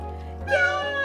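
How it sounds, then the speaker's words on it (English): A cat meows once in the Resident Evil 7 video game, a clear, fairly loud meow over a steady low background hum. "you've now picked up a cat and are twirling it"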